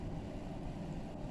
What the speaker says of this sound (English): If you hear that, that's my heater.